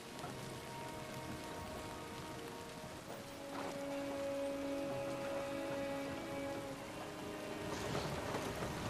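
Rain falls steadily in Kingdom Come: Deliverance II, a constant hiss of drops on surfaces with faint tonal game music sustained underneath throughout.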